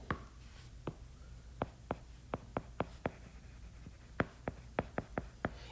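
Pen or marker strokes tapping and scratching on a writing surface during a math lesson, a dozen crisp short strikes in quick uneven bursts, close and alone with no talk.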